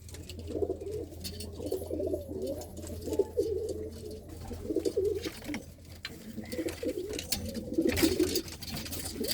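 Several pigeons coo repeatedly in soft, overlapping bursts throughout, close by in a loft on a farm near Shri Anandpur Sahib, with a steady low hum underneath and no talking.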